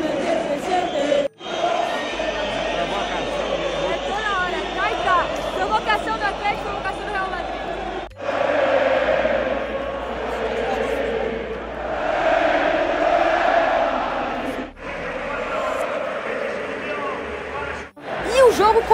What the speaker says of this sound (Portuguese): ali é a torcida do Real Madrid e olha os cantos